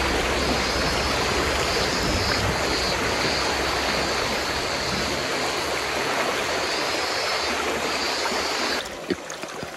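A gravel-bedded river along Route 168 in Nara flows in a steady, loud, broadband rush close by, easing off abruptly near the end with a couple of small knocks.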